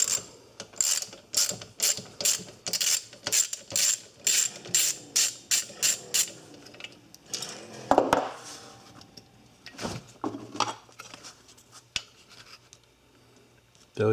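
Quarter-inch screw being backed out of a seized Century UST1102 pool pump motor with a ratcheting tool: a run of quick, evenly spaced ratchet clicks, close and crisp, then scattered metallic clicks and a faint hum.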